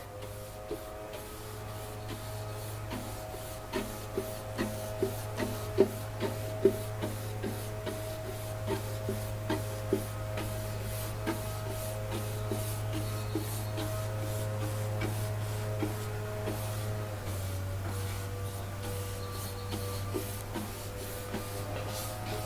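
Pumice worked over a wood finish on a tabletop makes a steady, repetitive scratchy rubbing under a constant low machine-like hum, with faint periodic strokes running throughout.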